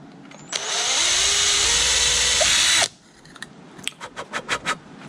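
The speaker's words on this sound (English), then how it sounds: "so let's get the drilling happening." A power drill bores a hole in one steady, loud burst of about two seconds, then stops, followed by a few sharp clicks and taps.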